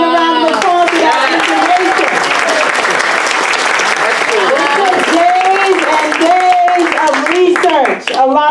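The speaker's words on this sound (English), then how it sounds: "Let's give Brandon a round of applause for that" Loud, sustained applause fills a town meeting hall, dense clapping from the audience with voices and cheers rising over it until it cuts off near the end.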